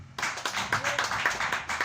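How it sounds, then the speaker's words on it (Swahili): A church congregation at a Sunday service claps together in a steady, quick rhythm of sharp hand claps, fairly close and continuous, with faint voices underneath. "Mpe Yesu makofi mazuri."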